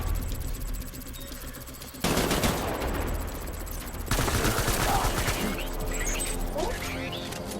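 Sustained automatic gunfire in the Death Stranding video game, loud rapid bursts that surge and intensify partway through, with faint game voices mixed underneath.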